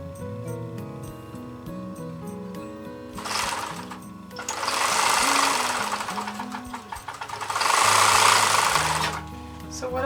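Sewing machine stitching a tote bag, its needle hammering in rapid even bursts with a motor whine, running in two louder stretches between quieter pauses, with a voice speaking at the start.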